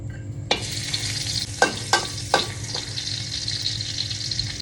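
Crushed garlic hits a hot pan and sizzles loudly, with several sharp scraping stirs of a spatula over the continuous hiss, close up.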